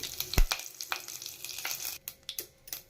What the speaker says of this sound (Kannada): ಸಾಸಿವೆ ಚಿಡಿದ ನಂತರ ಕರಿಬೇವು ಸೇರಿಸ್ತಾ ಇದ್ದೀನಿ